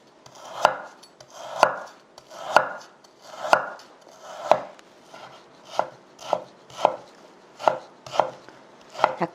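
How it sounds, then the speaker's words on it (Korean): A knife chops beef round (top round) into thick strips on a cutting board: about a dozen sharp, evenly spaced knocks, close and clear, with no talking. "채로 썰 겁니다."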